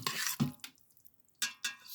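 General Tso chicken stirred in a pot, a few wet scraping and sloshing strokes up close with a quiet pause between them.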